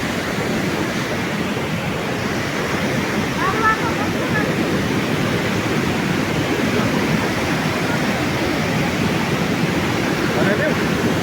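Muddy water of the Teesta river at Gajoldoba rushes past in a constant, loud, broad roar that holds steady throughout.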